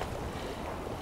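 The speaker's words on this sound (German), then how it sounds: "Hier ist es extrem windig." Strong wind roars steadily at an exposed fishing spot during a predator-fishing competition, a continuous broadband rush buffeting the microphone with no voices.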